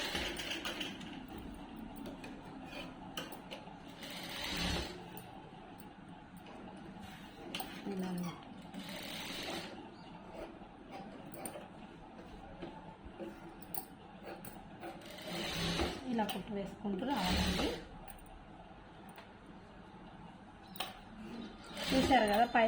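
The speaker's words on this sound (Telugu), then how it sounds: "పైపింగ్ అనేది మనకి నార్మల్ మిషన్ మీద చాలా సింపుల్గా అనేది వేసేసుకోవచ్చు" A normal domestic sewing machine with a standard foot stitches piping onto a prince-cut blouse, running in short whirring bursts separated by pauses while someone talks over it, quiet and close.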